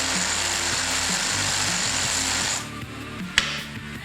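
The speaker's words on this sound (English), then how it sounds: "Next, we're gonna cut out this metal sleeve." A power tool cuts out a metal sleeve during a leaf spring rebuild, grinding loudly and steadily at close range. It stops after about two and a half seconds, leaving lower mechanical rumbling and a sharp clank.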